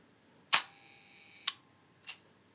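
A vintage German leaf-shutter camera with a mirror fires: one sharp mechanical snap with a brief ringing tail, then two softer clicks, all quiet and close.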